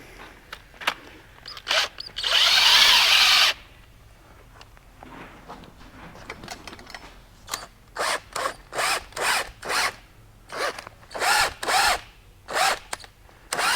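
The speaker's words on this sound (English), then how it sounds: "So to speed things up, we'll just use the drill." A power drill whirs in one long sustained burst, then runs in a quick series of short, repeated bursts, close and loud, separating a Kaizen lubricator sleeve.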